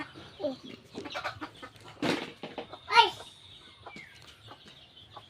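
Chickens cluck softly and intermittently while being fed by a boy, a few sharper squawks standing out, with a voice talking close by.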